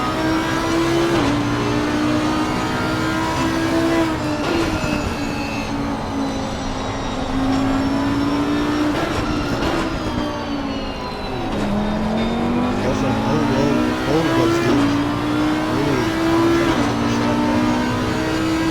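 An Audi and a Lamborghini race car scream around a track in Assetto Corsa Competizione, their engines holding a loud, sustained whine that climbs and drops sharply with each gear change and braking zone.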